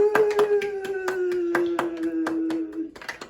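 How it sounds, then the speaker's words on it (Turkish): A baby and adult clap hands together during a toy box game at home, about a dozen sharp claps in a steady rhythm, close and fairly loud, over a sustained toy-like tone. "Beraber alkış yapıyoruz."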